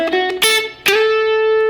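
Electric guitar with effects and slight distortion plays a short blues lick in A up the major pentatonic scale, with a few picked notes ending on a ringing sustained note, heard alone and up close.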